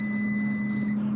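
An air fryer cooking eggs gives off a steady electronic tone, a held high beep over a low hum, close and continuous for about a second with no talk.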